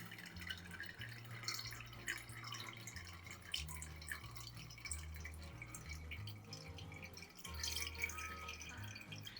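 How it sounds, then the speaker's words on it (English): Homemade ponzu sauce with bonito flakes dripping through a kitchen strainer, a steady patter of small drips and trickles close by, alone with no talk. "pour it through a strainer to catch the bonito flakes"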